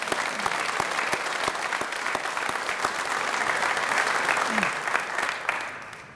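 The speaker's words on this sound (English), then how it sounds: "Let's give them a round of applause." Crowd at a fitness and recreation center dedication claps in steady, full applause that holds for several seconds, then thins and fades at the end.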